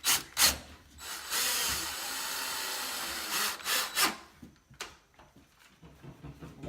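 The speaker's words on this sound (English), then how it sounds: "And then I can drive this screw dead straight." A driver sinks a SPAX screw into wood during cabinet installation, with a grinding, rasping whir in short bursts and pauses, close and fairly quiet, followed by light handling knocks.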